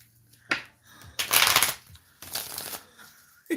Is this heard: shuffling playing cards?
yes